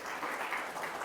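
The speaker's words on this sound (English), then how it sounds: "So I want everybody to sort of give a big round of applause for every storyteller when they come up." Brief, fairly faint applause from an audience at a storytelling event, a dense hiss of many hands clapping together for about a second, with no talking over it.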